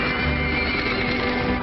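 Wild horses whinny and neigh over a muffled, uneven background soundtrack in a 1938 film about ranchers raiding wild horse bands, with a faint busy rumble beneath.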